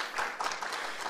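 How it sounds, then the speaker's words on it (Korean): Brief burst of audience applause at a startup school opening ceremony, many hands clapping steadily for about a second. "최초 단장님께 다시 한번 큰 박수 부탁드립니다."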